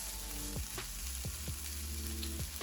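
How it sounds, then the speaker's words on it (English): Double vegetable fried rice sautés in a pan with a steady, close sizzle, broken by a few brief scraping strokes as it is stirred. "we're just going to saute this together for about a minute"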